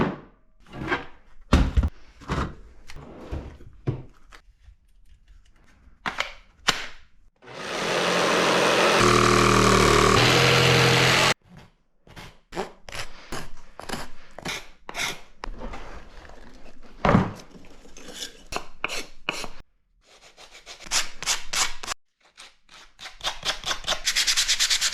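A traced shape is cut out of a sheet of MDF, with scattered knocks and handling thumps around a loud, steady burst of power-saw cutting lasting several seconds, then more clattering and short sawing bursts.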